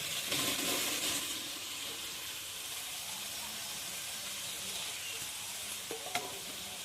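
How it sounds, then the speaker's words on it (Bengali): Boiled peas and potatoes hit hot frying spices in a pan, a loud burst of sizzling that settles into a steady hiss as they are stirred, with a couple of light knocks near the end. "এবার আমি কিন্তু সিদ্ধ করা মটর আর আলু দিয়ে দেব"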